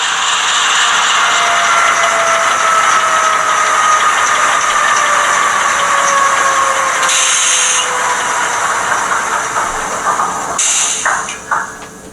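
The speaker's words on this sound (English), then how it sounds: "So I'm going to turn off the headlight and I'm going to shut the prime mover down." HO-scale ScaleTrains Dash 9 model locomotive with an ESU LokSound 5 decoder, its prime mover sound idling as a loud steady diesel rumble, then winding down and shutting off with clanks near the end.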